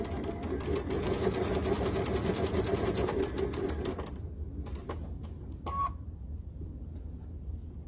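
Sewing machine stitching a quilt seam, a rapid steady mechanical whirring clatter for about four seconds, then it stops and a few faint clicks and small handling sounds follow.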